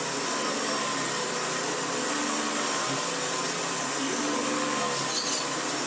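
Hoover Decade 80 vacuum cleaner running on speed 1, a steady, close motor whir and airflow hiss holding constant with no talk over it.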